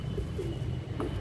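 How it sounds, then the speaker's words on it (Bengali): A male Habluk pigeon gives a brief low coo at close range, quiet against a soft background hum. "এই পায়রা"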